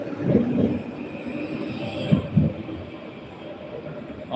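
A FLIRT electric train named Witkacy pulls out of Gdańsk Główny station with a low steady rumble and a few soft wheel clunks, fairly quiet and even over the whole span.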